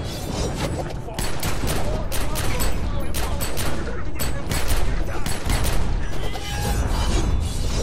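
Dense, rapid gunfire rattles nonstop in The Secret World as a barrel is shot apart, loud overlapping bursts with booming impacts and breaking debris, and a voice talks underneath.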